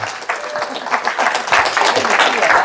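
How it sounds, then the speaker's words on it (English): Garden-talk audience gives Farmer Mark a loud round of applause, close clapping that swells midway and continues, with voices mixed in. "can we hear a round of applause for Mark?"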